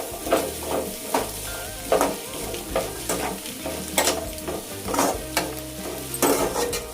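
Capsicum, carrot and cabbage are stirred in a sizzling frying pan for egg fried rice, a steady hiss of frying broken by repeated scraping strokes of the spatula, close and alone.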